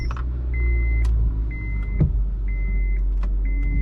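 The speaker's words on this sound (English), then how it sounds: "Let's start the car and I'll show you." A 2000 Honda CR-V engine runs with a steady low rumble, while a thin electronic chime tone repeats at regular intervals above it and a couple of short clicks are heard.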